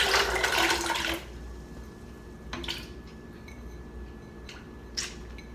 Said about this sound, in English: And then you're going to add in your almonds.